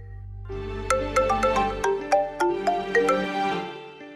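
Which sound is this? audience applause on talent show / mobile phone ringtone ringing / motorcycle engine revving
mobile phone ringtone ringing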